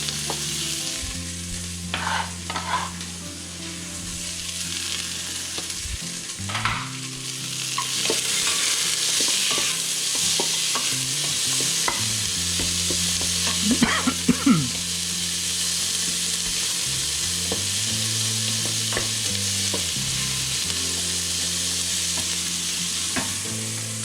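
Onions fry and sizzle in an Instant Pot while being stirred, a steady close hiss with scraping and clinking from the stirring throughout.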